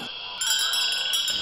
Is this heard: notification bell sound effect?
yes